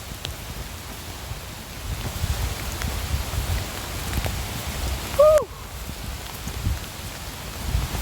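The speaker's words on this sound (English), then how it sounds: "it wasn't raining before," Rain falls on a nature reserve beside a canal, a steady close patter and hiss with wind noise, broken by one short whooping voice.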